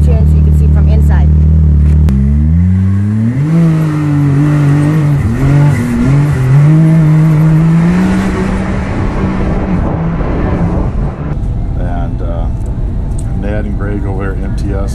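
Polaris RZR off-road vehicle with MTS shock tune heard from inside the cab at Glamis, engine droning and climbing in pitch as it drives over sand, with wind and rattling noise and occasional voices underneath.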